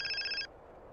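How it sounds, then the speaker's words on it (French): A phone rings in the video game GTA San Andreas, one short electronic trill lasting under half a second over quiet background noise. "Petit coup de téléphone."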